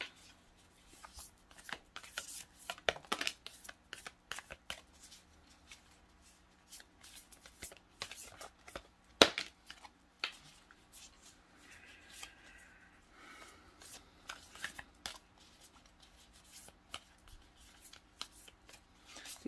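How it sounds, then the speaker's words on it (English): Tarot cards being shuffled by hand, a steady run of soft riffling and sliding with scattered sharper snaps and taps, fairly close and quiet with no talking. "These are kind of hard to shuffle."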